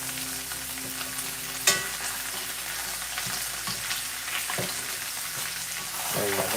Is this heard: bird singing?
no